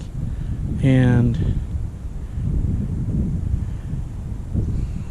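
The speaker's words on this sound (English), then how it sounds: "It's a nice cool breeze blowing out." Cool sea breeze at the beach buffets the microphone in a steady low rumble with gusty swells, while a voice briefly speaks over it.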